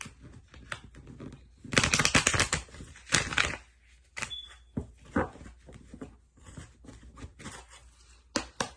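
Cards are shuffled in several quick riffling bursts with short pauses between them, close and fairly loud.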